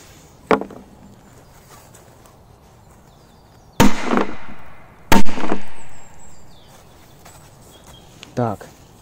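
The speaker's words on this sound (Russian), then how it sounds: "Ух, мощный Corsair 2 от Fieri." Corsair 2 firecrackers go off outdoors in a sequence of sharp, loud blasts, with two big booming reports in the middle and smaller cracks before and after, each followed by a brief ringing decay.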